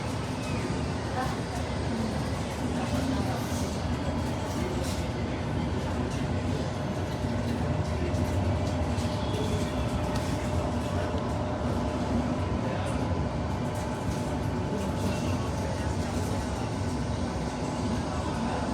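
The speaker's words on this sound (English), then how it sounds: "here I am leaving alongside one of the older Ansaldo trains, but in one of the newer CAF trains heading towards Rome Lido" Inside a newer CAF train running toward Rome Lido, a steady low rumble and rolling hum with faint rattles continue throughout, with occasional voices inside the carriage.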